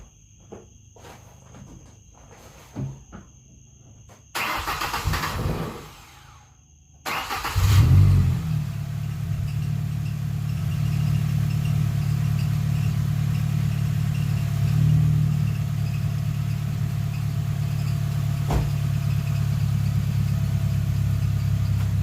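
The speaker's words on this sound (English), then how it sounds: "a major exhaust leak because the muffler's rattling real bad" A car engine at operating temperature idles steadily with a rough, rattling exhaust rumble from a major exhaust leak and loose muffler, loud and close; a few clicks and shuffles come before it starts.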